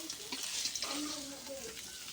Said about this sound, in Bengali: এবার আমি মাছ দুইটা কড়া করে ভেজে নেব